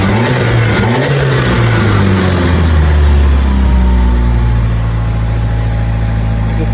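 A turbocharged 2.3-litre engine in a 1932 Ford Roadster runs steadily in its engine bay, a close, loud low drone with some revving near the start that settles into an even idle.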